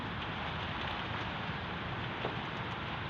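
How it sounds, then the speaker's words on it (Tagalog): Heavy rain during a low-pressure storm pours down in a constant, dense hiss of drops, steady and fairly loud with no break, no voices heard. "Sobrang lakas ng ulan"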